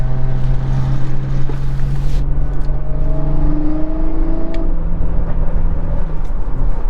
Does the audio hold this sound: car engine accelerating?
yes